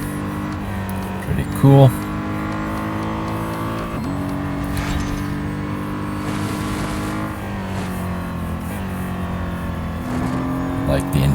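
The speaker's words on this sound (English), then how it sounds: "That is one aggressive sounding motor." Nissan GT-R engine in the Real Racing 3 racing game, a steady, loud motor drone that holds on with slight rises in revs, while someone talks over it throughout.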